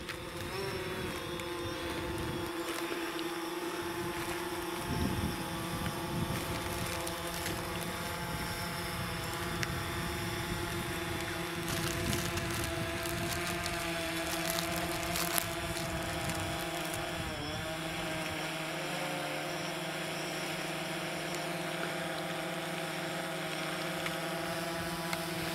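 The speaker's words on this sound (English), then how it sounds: "He's going to put his drone up" A camera drone flies close by at a wild camp in the Lake District, a continuous steady motor hum holding one pitch with slight shifts, alongside quiet outdoor background noise.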